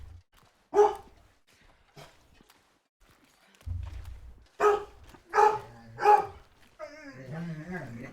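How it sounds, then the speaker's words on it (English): A dog barks angrily in several loud, separate bursts at gutter cleaners working just outside a window, with a low rumble and a whimpering, yelping tail near the end. "The dog, apparently, hates it."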